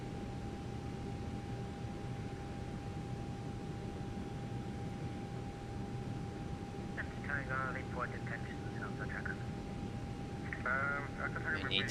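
A Condor airliner taxiing to park in the X-Plane 12 flight simulator gives a steady, even jet-engine roar with a constant high whine, while brief voice-like bursts cut in faintly twice over the drone.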